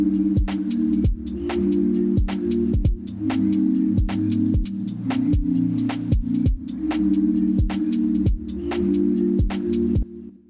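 A granular synthesizer pad built from noise and recordings pumps under sidechain compression against a beat, sharp percussive hits cutting through evenly while the sustained tones swell and duck in rhythm.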